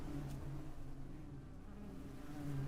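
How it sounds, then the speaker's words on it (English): Flies buzz around a fridge in a kitchen in the video game MiSide, a steady, low droning hum that continues unbroken throughout, close and fairly quiet. "All of a sudden, you hear bugs buzzing all around you and into the kitchen."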